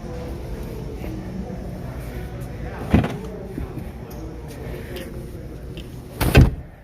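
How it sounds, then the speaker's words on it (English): Rear seats of a 2022 BMW iX xDrive50 lifted up by hand from the folded position, giving two distinct thumps and clunks, one midway and a louder one near the end, over low cabin background. "with the seats folded down, I can just lift them up with a little bit of muscle"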